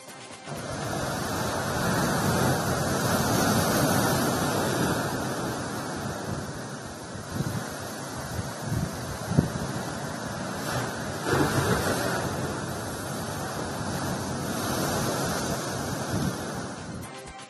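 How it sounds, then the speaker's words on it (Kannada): Continuous roar of huge surf pounding and eroding the Karnataka coast, with wind rushing across the microphone and occasional louder crashes. "ಭೀಮಾ ಗಾತ್ರದ ಅಲೆಗಳು ಅಬ್ಬರಿಸುತ್ತಿದ್ದು ಕಡಲ್ ಕೊರೆತ ಉಂಟಾಗಿದೆ"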